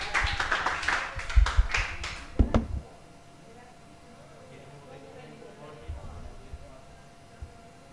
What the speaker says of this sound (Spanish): un aplauso al grupo